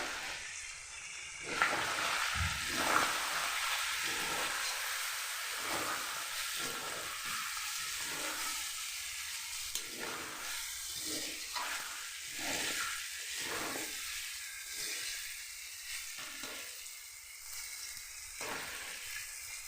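Spiced curry with fried potatoes nearby sizzling hard in a pan, a continuous crackling hiss with repeated rhythmic scrapes and stirs across the pan, fairly close and with no talking.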